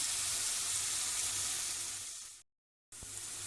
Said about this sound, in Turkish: yağda gördüğünüz gibi soğanımı ve biberimi bu şekilde kavurmaya başladım